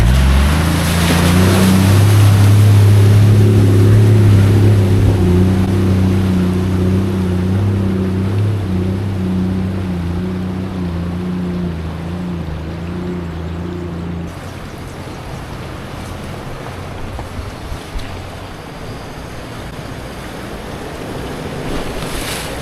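A Toyota Landcruiser 4WD fording the Macquarie River on the Bridle Track in NSW: a steady low engine drone over rushing, splashing water, loud and close at first, then fading to wind-blown water noise.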